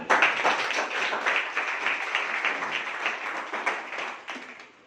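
Audience clapping in a room, steady dense applause from many hands, fairly close and alone, fading slightly toward the end.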